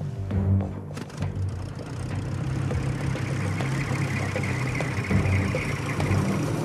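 A helicopter idles on the ground before takeoff, its engine giving a steady, moderately loud mechanical drone with a low rhythmic chop throughout.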